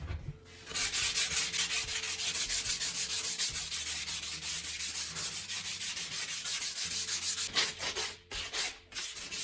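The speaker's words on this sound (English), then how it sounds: "Then you take some sandpaper and go over the surface of the pot." Sandpaper scrubbing the surface of a pot cast from a sawdust and cement mix, a close, loud, continuous rasping in quick rhythmic back-and-forth strokes that pause briefly near the end.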